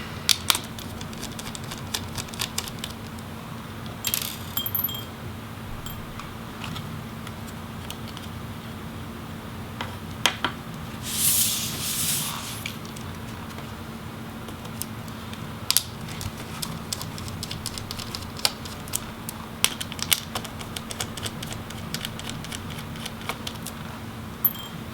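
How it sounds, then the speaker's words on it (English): Screws being removed from a Razer Blade RZ09 laptop during disassembly, faint scattered small clicks and ticks of a screwdriver over a low steady hum, with no talking. "and then you can remove the screws"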